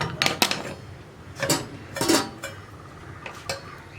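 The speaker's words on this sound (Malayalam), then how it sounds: "നമ്മുടെ വറവ് നമുക്ക് കറിയിലേക്ക് ചേർത്തിട്ട് ഒന്ന് ഇളക്കിയിട്ട് അടച്ചു വെക്കാം" A spoon clinks and scrapes against a pot while padavalanga pachadi, a Kerala curry, is stirred after the tempering goes in, making several sharp metallic taps in irregular bursts close by.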